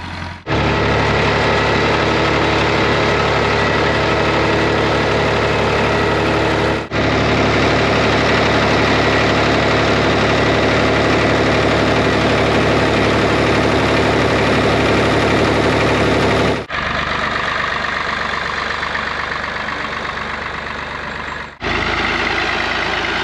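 Tractor engine running at idle during hay raking, a steady loud drone with low harmonic hum that continues unbroken, with a few brief dips where the sound cuts and resumes.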